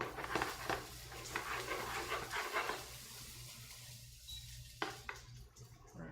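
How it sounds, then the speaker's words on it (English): Onions hit a hot frying pan in a home kitchen with a loud, steady sizzle for about three seconds, then settle into a quieter crackle with a couple of faint clinks. "Boom, our onions go. And listen to that sizzle."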